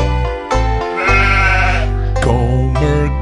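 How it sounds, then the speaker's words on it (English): A cartoon goat bleats in a children's alphabet song, the bleat sounding loud and close over steady music, with sung phrases around it. "Gomer goat. G says g, g, g, g."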